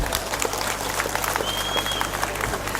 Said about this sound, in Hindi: मोरेश भाई के लिए जोरदार तालियां।